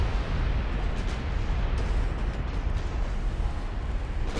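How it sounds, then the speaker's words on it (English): Ammo detonation aboard a warship in Ultimate Admiral: Dreadnoughts, a continuous deep rumbling roar of explosion with a few faint crackling pops layered over the steady low-end boom. "Another ammo detonation."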